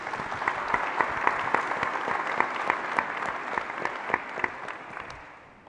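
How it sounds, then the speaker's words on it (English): Audience applause at a business energy symposium, a sustained crowd of hands clapping fairly evenly for several seconds before tapering off at the end, heard at moderate distance in a hall. "if you guys give all them a round of applause,"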